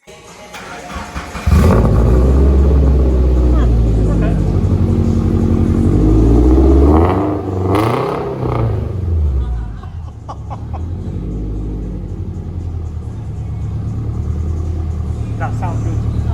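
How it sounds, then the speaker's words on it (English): A Toyota GT86 cold-starts and revs, its engine catching with a loud burst, then rising and falling through several revs before settling to a rough idle, close by with people talking over it. "We're gonna have this GT86 start,"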